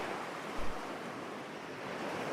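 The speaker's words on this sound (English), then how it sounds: "And the ocean is truly beautiful at night." Ocean waves wash steadily against a dock at night, a continuous broad rushing surge with a soft low thump near the start, moderately loud and unbroken with no voices.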